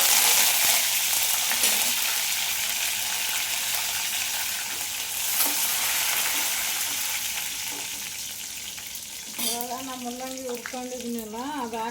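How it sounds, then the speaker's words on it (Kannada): Curry leaves hit hot oil with cumin for a radish palya, giving a loud crackling sizzle that slowly fades, then a voice speaks over the quieter frying near the end. "ಕರಿಬೇವಿನ ಸೊಪ್ಪು ಹಾಕ್ತೀನಿ."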